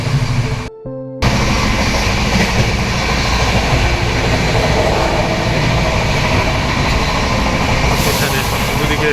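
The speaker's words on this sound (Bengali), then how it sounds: "আমি এই মুহূর্তে রয়েছি শিয়ালদা আজমির শরীফে দেখিয়ে দিই আপনাদের কেমন রয়েছে এই ট্রেনটা" Inside the Sealdah Ajmer Express on the move, a loud, steady rumble of wheels and carriage fills the air without a break, except for one brief drop near the start.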